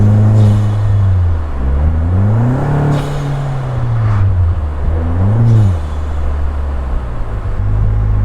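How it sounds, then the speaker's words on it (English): Vanderhall Venice three-wheeler engine revving loud and close, rising and falling through several throttle blips with an old-school exhaust note and turbo blow-off whooshes between revs. "there's the old school exhaust sound and the blow-off sound from the turbo"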